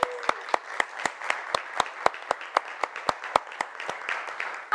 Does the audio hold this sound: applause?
yes